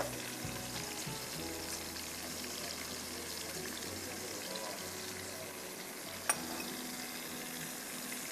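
Qeema, minced meat, frying in a pan with a soft, steady sizzle and low bubbling throughout, with a faint clink near the end.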